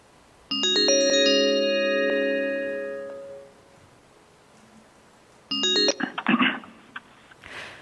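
A telephone ringtone for an incoming call during a committee hearing plays as a bright electronic melody for about three seconds, pauses, then starts again and breaks off into some clatter.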